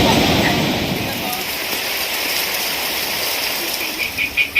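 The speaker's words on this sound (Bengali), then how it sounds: "তুমি বৃষ্টিতে ভিজবে না?" Steady rain falls across the whole stretch as a dense, even hiss with soft patters, fairly loud and continuous, with a few brief louder pulses near the end.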